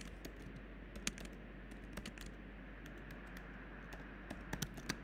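Fingers type a title on a computer keyboard in a WordPress editor, producing quiet, irregular clicking keystrokes close by, with small flurries and short pauses against a low hum.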